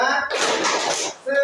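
A group of women claps a rhythmic spirit clap at a community health session, a dense burst of hand claps between brief spoken voices at the start and end.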